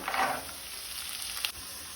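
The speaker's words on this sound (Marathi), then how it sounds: "कांदो आमकां मातसो तळसून घेवपाक जाय।" Chopped onion frying in a pan for Goan taro leaf bhaji, a steady close hiss of oil with a brief louder crackle near the start and a faint clink partway through.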